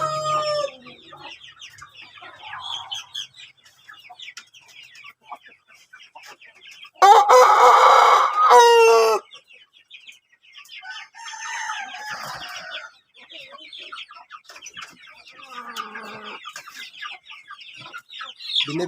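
Native chickens cluck and chatter softly on and off, and a rooster lets out one loud, close crow midway through.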